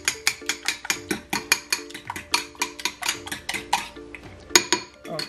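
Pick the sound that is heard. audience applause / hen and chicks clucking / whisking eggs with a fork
whisking eggs with a fork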